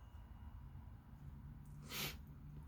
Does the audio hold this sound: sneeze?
yes